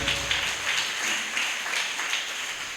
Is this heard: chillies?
no